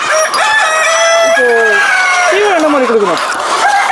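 Parent hens and roosters on a chicken farm cluck and crow close by, with several rising and falling crows overlapping a busy bed of clucking that continues throughout.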